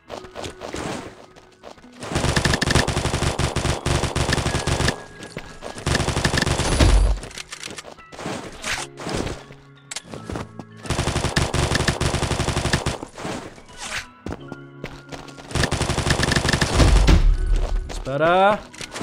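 Automatic weapon fire from the mobile battle royale shooter Combat Master, several sustained bursts of rapid shots with heavy thumps and brief pauses between volleys, loud and close.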